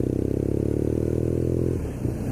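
A BMW R nine T Scrambler motorcycle being ridden, its boxer engine giving a steady, close, throbbing drone that shifts and eases off near the end, with no talking over it.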